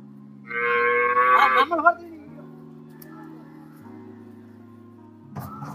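At a large outdoor buffalo livestock market, an animal gives a loud, close moo lasting over a second, followed by a low hum of background activity and a brief faint sound at the end.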